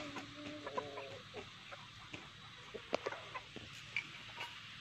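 Bulik gamefowl chickens at a game farm, scattered soft clucks and short calls at low level over quiet farm ambience.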